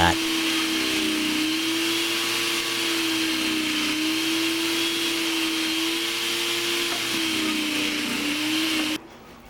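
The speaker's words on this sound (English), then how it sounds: "we have the electric shredder here. It saves you a lot of time." An electric shredder grinds potatoes for breakfast hash browns, a steady loud motor whine with a constant pitch running almost nine seconds before cutting off abruptly.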